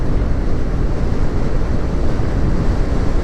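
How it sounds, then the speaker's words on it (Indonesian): Strong wind buffeting a rider on a motorcycle touring from Bekasi to Bandung, a loud, constant rushing roar of wind noise with no voices. "Anginnya kenceng banget"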